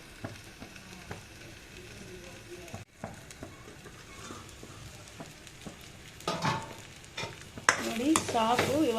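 Peanuts frying in a pan while preparing a drumstick leaf palya give a faint, steady sizzle. Soft stirring clinks and scrapes run through it, and the frying grows louder and busier toward the end.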